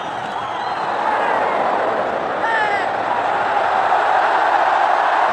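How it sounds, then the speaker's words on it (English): Constant roaring noise from a packed Bengaluru cricket stadium crowd during India versus Australia in 2013, with a commentator talking over it throughout. "Well, it's a very noisy crowd."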